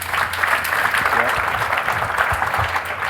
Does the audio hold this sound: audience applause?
yes